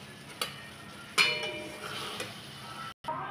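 A utensil stirs pointed gourd and prawn dorma in a pan, giving a soft sizzle with a few clinks and scrapes of metal on the pan, near and fairly quiet.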